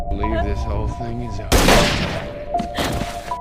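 A single sharp gunshot cracks loudly over music and voices, leaving a brief ringing decay.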